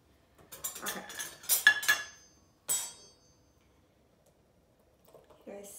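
A cheap store-bought whisk clinks and rattles against a bowl of thin liquid for homemade lasagna in a quiet kitchen, with a few close bursts of metallic stirring and a later clatter.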